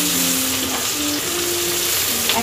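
Onion frying in butter and oil for a pea and tomato curry, a steady close sizzle running the whole time with no talk over it.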